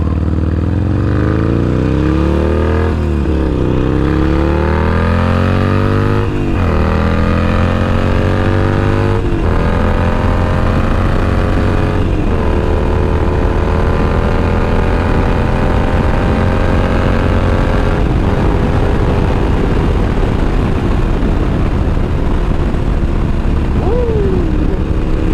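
A motorcycle on Avon Storm 3D-XM tires accelerates hard through several gears, its engine pitch climbing, dropping at each shift and climbing again, loud and close under steady wind roar.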